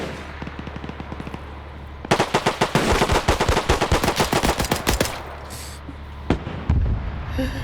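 A Cromwell tank fires at infantry in a WW2 video game, with a long run of rapid, loud machine-gun bursts that rattle steadily for several seconds before thinning out to a few scattered shots.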